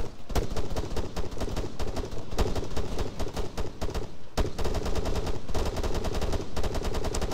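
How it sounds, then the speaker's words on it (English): Dense, continuous gunfire in the military video game ARMA 3: rapid automatic bursts and single shots crackle close and loud, barely pausing throughout. "Alright, stop shooting."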